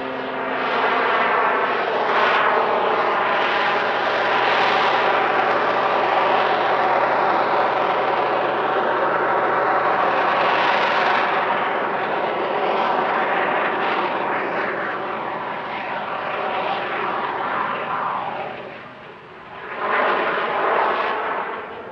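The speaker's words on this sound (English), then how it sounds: "The jet engines have a high fuel burn and will consume all of their fuel in a little over 10 minutes." Jet aircraft engines roar during an airshow flying display, a loud continuous rushing thunder that swells and shifts as the jet passes, dipping briefly near the end before surging again.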